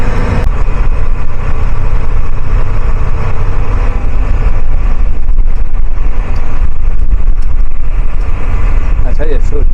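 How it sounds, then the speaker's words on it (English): A noisy bus engine drones loud and constant from start to finish, a rough low rumble with rattling, while people talk over it. "that is one noisy bus"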